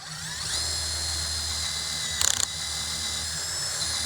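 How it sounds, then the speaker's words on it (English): A power drill bores through a wooden baluster with a loud, steady whirring whine that holds throughout, broken by a brief burst of rattling chatter midway. "you just literally drill it"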